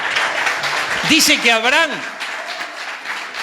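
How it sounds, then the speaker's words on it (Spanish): A church congregation applauds, its clapping running steadily in the background while a preacher talks over it. "Dale un fuerte aplauso al que vive"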